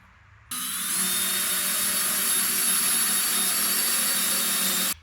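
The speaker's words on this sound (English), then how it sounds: "I'm going to drill some 1-inch holes in the bottom." A power drill bores a 1-inch bolt hole in a wood splitter base, starting abruptly after a brief quiet moment and holding a loud, steady high whine for about four seconds before cutting off.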